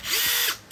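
A Makita 18V cordless drill/screwdriver, a high-speed made-in-Japan model, runs in one short, steady whir at close range, then spins down near the end. No one talks.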